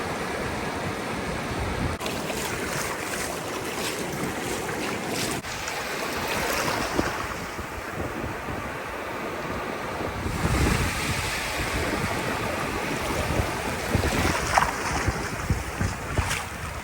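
Ocean surf rolling onto a warm sandy beach on Chincoteague Island, Virginia: continuous close wave wash and swell with wind buffeting the microphone, swelling and receding over the length of the recording.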